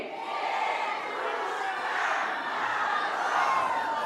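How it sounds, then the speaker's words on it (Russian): A concert audience shouting "Ded Moroz" together at a New Year concert in Derbent, a loud, sustained collective yell that swells and holds across the whole stretch. "Давайте по команде Дедушка Мороз на 3 и 4. Громко."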